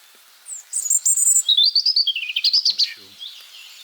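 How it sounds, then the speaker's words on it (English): A robin sings a bright, rapid run of high warbling notes and trills, close and clear against a quiet background. "There's the little robin again."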